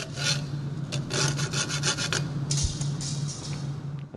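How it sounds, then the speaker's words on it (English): A coping saw rasps back and forth through a small wooden dowel in steady, close strokes, a continuous scratchy grinding with a low hum beneath. "you're just going to gently saw through"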